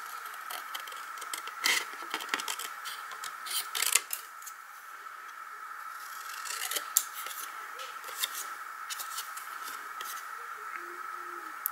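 Scissors cutting a paper banner from scrap paper, repeated crisp snipping and slicing strokes at close range, some quick and clustered, others spaced out, over a faint steady hum with no talking.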